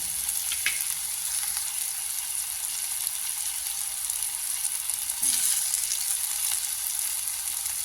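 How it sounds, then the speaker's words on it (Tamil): Pasta ingredients with salt sautéing in a pan for a coconut milk pasta, a steady close bright sizzle throughout, with a brief stirring scrape near the start and another mid-way. "உப்பும் சேர்த்து நல்லாவே வதக்கி விடுங்க."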